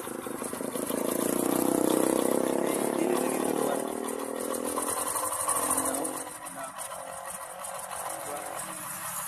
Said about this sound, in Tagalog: Yun, papansin nyo, balik na sa dati ang andar.